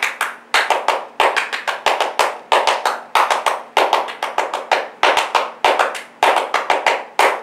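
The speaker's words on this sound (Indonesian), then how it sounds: "yuk 3 kali tepuk pramuka" Scout group does the Pramuka clap, sharp rhythmic claps in repeated patterned bursts, close and crisp, with short pauses between phrases and no talking.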